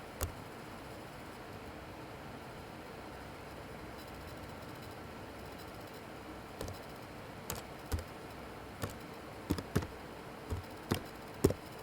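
Fingers tapping on a computer keyboard, quiet at first and then a run of sharp, distinct keystroke clicks in irregular bursts, close and fairly soft against low room hiss.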